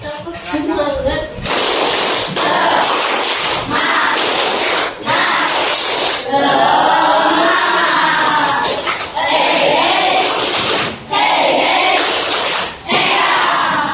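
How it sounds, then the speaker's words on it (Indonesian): A classroom of pupils performs the rhythmic 'tepuk semangat' clapping chant, bursts of loud hand claps alternating with shouted group chanting, close and continuous with brief pauses between phrases. "Kita tepuk semangat terlebih dahulu"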